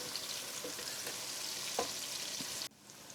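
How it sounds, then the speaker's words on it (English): Ginger and garlic fry in a pot with a bright, steady sizzle and occasional stirring scrapes, close and continuous until it cuts suddenly quieter near the end. "Now it's time to add the ginger and garlic and stir them in"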